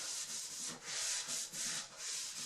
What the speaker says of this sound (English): now I'm going over the whole thing with a gray Scotch-Brite pad